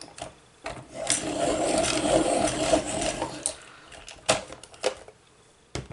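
A lilac coloured pencil is turned in a sharpener, giving a close grinding rasp that builds for a couple of seconds, then several sharp clicks and taps as the pencil is handled. No talking.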